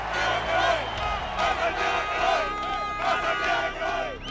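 A baseball stadium crowd at the 2006 World Baseball Classic roars continuously, loud and close, with whistles, shouts and scattered clapping layered over a dense wash of voices.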